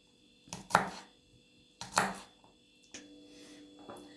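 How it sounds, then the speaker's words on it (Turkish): Two sharp knife chops on a board, then a softer third, with quiet pauses between; garlic and green peppers being chopped, close and fairly faint, no talking. "Şimdi güzelce şeylerimizi doğruyoruz. Sarımsaklarımızı ve yeşil biberimizi."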